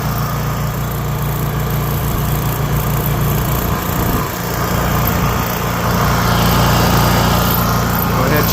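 A Honda EU3000iS inverter generator with its choke pulled on, fitted with a replacement carburetor after stalling, runs loud and close in a steady buzzing drone, dipping briefly midway before settling back to an even, slightly stronger hum.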